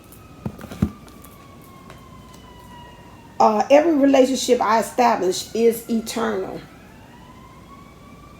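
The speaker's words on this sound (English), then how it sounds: "Got the sirens going here." Emergency vehicle sirens wail faintly in the distance with slow rising and falling tones, and partway through a person speaks clearly over them in the foreground.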